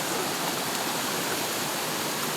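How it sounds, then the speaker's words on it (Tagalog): A river flows with a steady, unbroken rush of water, close and fairly full, with no voices over it. "Dito pala tayo ngayon sa ilog."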